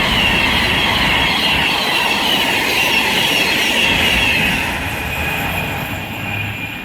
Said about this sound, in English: And now approaching, there's going to be another Class 390 Pendolino bound for London Euston.